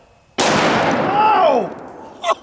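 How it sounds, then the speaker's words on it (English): A single loud, close gunshot from a stainless steel .50 AE hand cannon firing a 300-grain jacketed hollow point round at point-blank range, a sharp blast followed by a decaying ring and a brief exclamation. "I'm loaded up with the 50 AE Underwood ammo, 300 grain jacketed hollow point"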